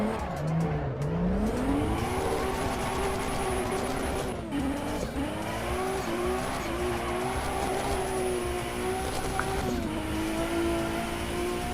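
A race car in Assetto Corsa EVO slides sideways through a drift, its engine wailing and shifting pitch while tires squeal continuously, loud and close throughout with no talking.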